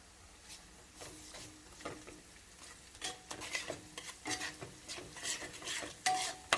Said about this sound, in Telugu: అన్నీ 2 మినిట్స్ తేడా మీద వేసుకొని వేయించుకోవాలండి